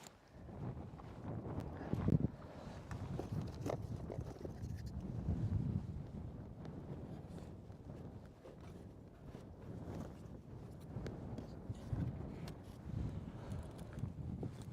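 Gusty wind at a volcano eruption site in Iceland buffets the microphone in a low, rumbling roar, swelling and easing steadily throughout with no voices.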